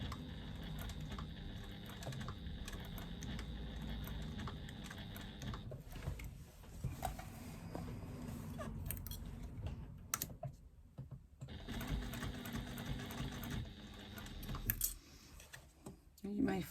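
A sewing machine stitches binding on a fabric caddy in steady mechanical runs, pausing briefly midway, with a quiet voice speaking over parts of it.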